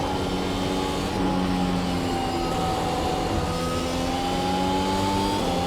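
A Mercedes W12 Formula 1 car in iRacing screams at full throttle, its pitch climbing steadily, dropping sharply at an upshift and rising again. It sounds loud, continuous and close, with no voices.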